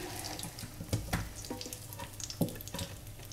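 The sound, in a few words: sourdough leftover pancake with herbs frying in a pan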